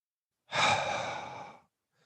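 A single deep exhalation, a long breathy sigh that starts abruptly, holds for about a second, then fades, close and clear with no talk over it.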